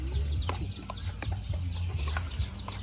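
Chickens cluck and call at a distance outdoors, short scattered clucks over a steady low hum, fairly faint.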